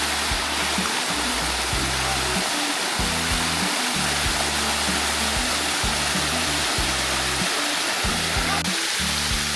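Waterfall at Sticky Waterfalls roaring as a steady, loud, dense rush of water close by, with low rumbling wind buffets underneath and no talking.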